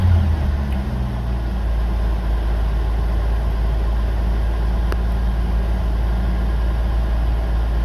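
A Jeep CJ-7 engine running on a Holley Pro-Jection 1D throttle-body injection setup idles steadily, a low, constant rumble that stays close and even throughout.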